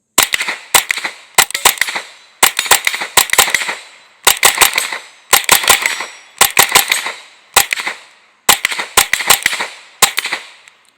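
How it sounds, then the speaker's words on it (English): Rapid strings of sharp gunshots from a Smith & Wesson FPC 22 folding .22LR rifle, fired in about nine quick bursts of two to four cracks each, loud and close, with no talking. "let's take a few more shots"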